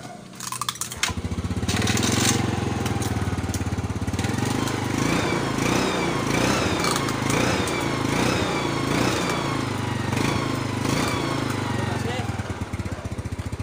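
A 2006 Yamaha Mio scooter engine starts and runs at a steady, rattly idle, loud and close, with someone talking over it.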